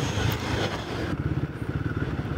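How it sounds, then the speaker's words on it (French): A Royal Enfield Guerrilla 450 motorcycle slows under hard braking on a straight road, its engine note dropping into a low, pulsing rumble with wind noise fading partway through, close and steady. "je vais essayer de faire un freinage un peu appuyé"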